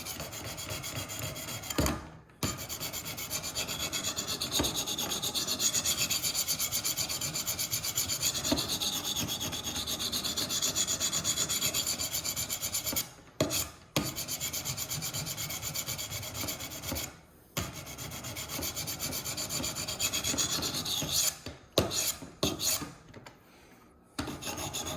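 A knife blade is honed on a Wicked Edge Go sharpener with steady, close rasping strokes. The repeated scraping comes in long runs broken by a few brief pauses.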